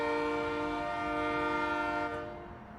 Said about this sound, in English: Particularly like the way the horn just tapers off at the end.